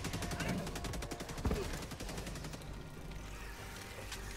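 Rapid gunfire in a video game, a dense stream of repeated shots through the first half with a louder burst near the middle, then easing off under ongoing game noise and background talk.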